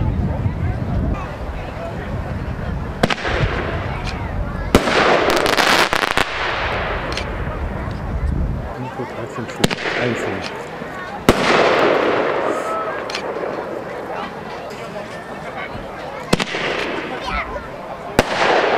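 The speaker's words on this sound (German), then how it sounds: "Als nächstes kommt das Nico Set Dreier Set Bombenstimmung, 30 mm Einzelschüsse" Nico Bombenstimmung three-shot set of 30 mm single-shot fireworks going off outdoors, sharp bursts and crackling reports spread across the clip, with wind noise and a brief voice.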